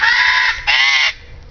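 A pet bird at a bird sanctuary gives two loud, nasal, honking calls, the first about half a second long and the second after a short gap, both close and clear with no talking over them.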